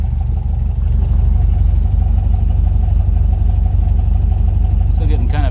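Fitted with Weber IDF carburetors, a VW Volksrod air-cooled engine idles loudly and close by with a steady, rapid low throb that wavers slightly and unevenly, then blips briefly near the end.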